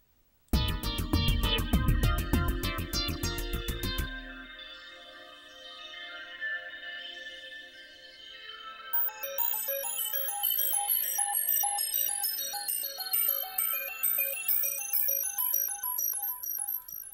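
A bright synthesizer pattern from Reason's Matrix sequencer plays alone, opening with a dense burst of stacked tones before settling into a busy, repeating sequence with a harsh, edgy top end.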